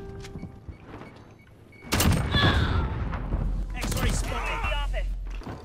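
Shotgun blasts and chaotic combat noise fill a video game firefight around a building, loud bursts erupting midway and continuing with rumbling, clattering effects while a player's voice is heard in the mix.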